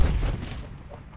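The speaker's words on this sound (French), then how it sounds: "Un char qui tire ça." A tank cannon fires in the military shooter Arma 3, one heavy low boom that opens the moment and then rolls out into a long fading rumble.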